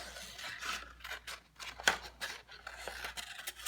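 Scissors snip through paper during a mirrored-design craft, a series of quick, close, crisp cuts in an irregular rhythm, fairly quiet with no talking.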